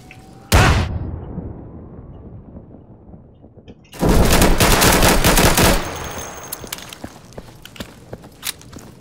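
Pistol gunfire in the shooter video game Insurgency: a single loud close shot, a pause, then a sustained burst of rapid fire with echoing tails, followed by quieter footsteps and faint clicks.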